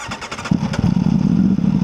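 An Aprilia Tuono V4 motorcycle engine cranks briefly, then catches and settles into a loud, rough, throbbing idle close by.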